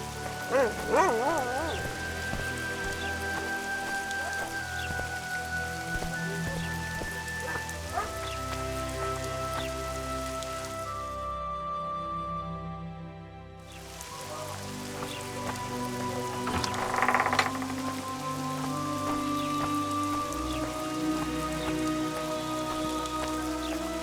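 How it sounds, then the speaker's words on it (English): Steady rain pours down in The Witcher 2: Assassins of Kings, a continuous broadband hiss of drops on surfaces under a bed of game music, briefly thinning mid-way before the downpour and music swell back. "It's really raining."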